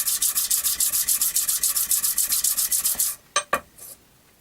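A hand file smoothing a scuffed surface, about twenty quick, even rasping strokes in a steady back-and-forth rhythm, close and clear, ending with a couple of lighter scrapes and a short pause.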